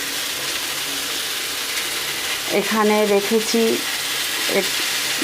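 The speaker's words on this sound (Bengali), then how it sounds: "এবারে অনেকটা ভাজা ভাজা হয়ে এসছে" Bitter gourd frying in a pan: a dense steady sizzle throughout, with a burst of rattling, ratchet-like scraping of a spatula in the middle and a faint tonal sound near the end.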